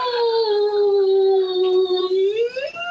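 A human voice imitating whale calls: one long, sustained, wavering tonal moan that holds steady and then bends upward near the end, loud and close, with no other sound around it.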